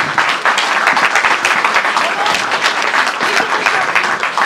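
An audience applauds schoolchildren after their stage performance, loud sustained clapping from a full crowd with a dense, even patter throughout.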